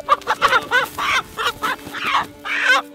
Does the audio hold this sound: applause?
no